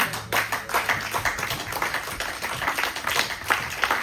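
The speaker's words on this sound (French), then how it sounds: "Ça mérite acclamation." A church congregation claps steadily, a dense rhythmic patter of hands that stays lively throughout with no voices.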